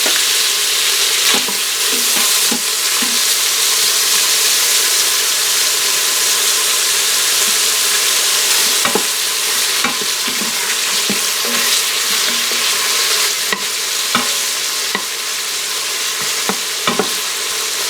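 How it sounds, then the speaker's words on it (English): Bacon crisps in the pot of an Instant Pot for a low-carb beef bourguignon, a loud, continuous close sizzle with scattered spoon scrapes and pops, no talking. "we're going to crisp up this bacon"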